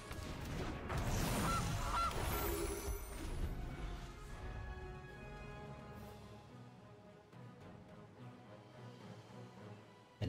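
A goose honks when a Goose card is played in the Magic Arena card game, a loud cartoonish honk near the start with a crashing burst, then tapering game effects and music fading quieter afterward.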